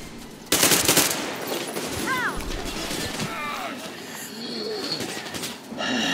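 Gunfire in the video game Metro Exodus crackles as a loud burst of shots and rattling impacts with game effects, while a player talks over it.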